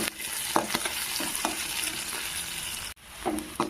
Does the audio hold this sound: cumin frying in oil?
yes